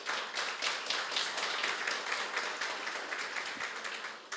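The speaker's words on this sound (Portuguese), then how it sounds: "Vamos aplaudir o Senhor nessa noite?" Congregation at a New Year's Eve church service applauding, steady, even clapping filling the room at moderate loudness.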